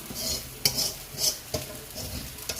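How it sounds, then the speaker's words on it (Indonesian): Spice paste stirring and sautéing in hot oil for a homestyle Acehnese dish, with a soft steady sizzle broken by several sharp utensil scrapes and clinks against the pan, close and moderately quiet, no talking. "Kira-kira udah panas minyaknya. Kita tumis dengan bumbu tadi"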